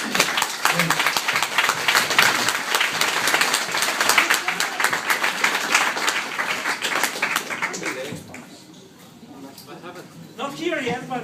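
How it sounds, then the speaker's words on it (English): Audience applause fills the room after a presentation at a startup weekend event in Sofia, steady dense clapping for about eight seconds before tapering off, with a voice speaking near the end. "give her a big round of applause for this presentation"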